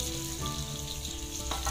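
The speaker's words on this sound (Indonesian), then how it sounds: "Nah ini kita gongso sambil dibolak-balik seperti ini ya" Green chili sambal base stir-fried in a pan, a steady close sizzle and crackle of oil with faint scraping as the mixture is turned over, continuous with no talk.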